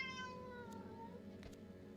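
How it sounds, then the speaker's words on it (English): A cat gives a single drawn-out, falling meow at close range in a quiet room with a low background hum, followed by faint rustling. "Oh my God, cat."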